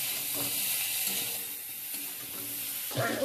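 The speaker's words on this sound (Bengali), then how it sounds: "আমি নেড়ে চেড়ে ভালো করে ভেজে নেবো।" Potatoes and eggplant seasoned with salt and turmeric sizzle in oil while being stirred, a steady crackling fry with scraping stir strokes and a louder sputter near the end, with no voices.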